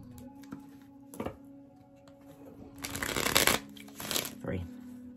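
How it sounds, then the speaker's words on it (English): Tarot cards are shuffled by hand in several short riffling bursts, close and crisp, with pauses between them and a low hum underneath. "Let's give these five shuffles."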